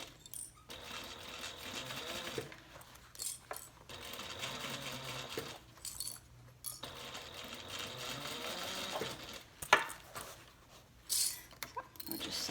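A Juki 8700 sewing machine stitches around the bottom band of a handbag, running as a faint, steady mechanical whir in several stretches broken by short pauses, with one sharp click partway through.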